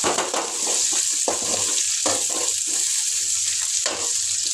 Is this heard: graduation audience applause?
no